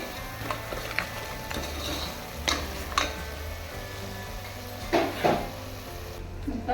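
Kasuri methi is stirred into mutton paya masala frying in a pan, making scraping spoon strokes and clanks over a steady background sizzle and hum, with a few sharper scrapes spaced through the clip.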